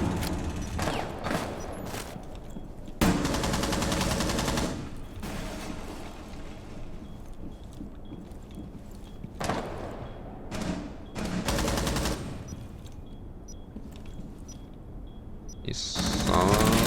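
Bursts of automatic gunfire from a shooting video game rattle in several loud, sustained volleys separated by quieter gaps with sparse single shots, close and harsh.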